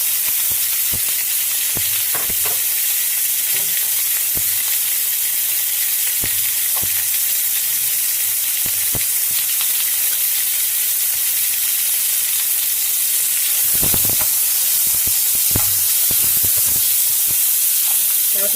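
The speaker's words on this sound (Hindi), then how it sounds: "इसमें थोड़ा सा ऑयल डालेंगे, ज़्यादा नहीं। और इसमें हम डालेंगे चिकन" Chicken pieces fry in a little oil in a pan, a continuous close sizzle and hiss scattered with sharp pops and crackles, with no voices over it.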